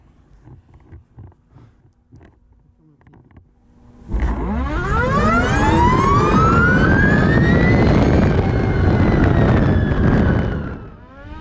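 An Energica Eva Ribelle RS electric motorcycle, with no gearbox or clutch, launches at full throttle: after a quiet start, a loud, rising electric-motor whine cuts in abruptly, climbs steadily in pitch for several seconds, then fades.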